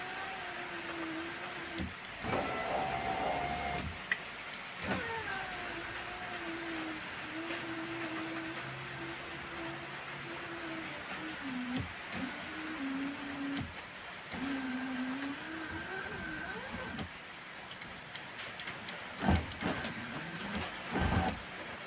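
A car's electric sunroof motor hums steadily for around twenty seconds as the panel slides forward, a whining drone that shifts pitch near the end, interrupted by a few clicks and knocks.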